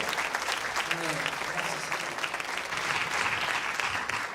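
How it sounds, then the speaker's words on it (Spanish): A congregation at an online Spanish-language prayer meeting claps steadily together in praise, a dense, sustained round of applause heard throughout, with voices faintly mixed in underneath. "Dale un fuerte aplauso a Él."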